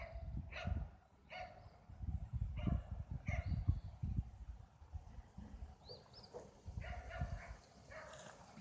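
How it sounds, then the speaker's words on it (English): Dogs bark repeatedly some distance off outdoors, several sharp yaps in an irregular run over a low rumbling background, with some faint chirps mixed in. "there's dogs over there"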